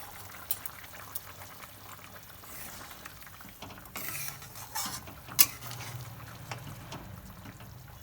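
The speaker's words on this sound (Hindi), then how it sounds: "तो देखियो खूब बढ़िया से ये बड़क गेल हँ" Paneer curry gravy bubbling and stirring in a pan, with a steady soft simmering hiss and occasional scraping clinks and splutters, close and moderately loud, no talking.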